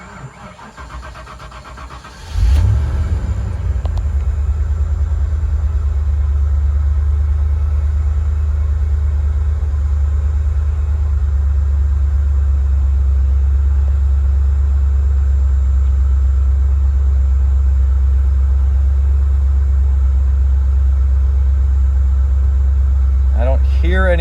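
A 1988–1993 Ford Mustang engine cranks and catches, then settles into a loud, steady low idle rumble close by, with someone talking faintly near the end.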